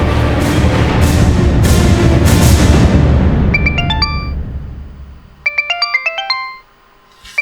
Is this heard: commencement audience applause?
no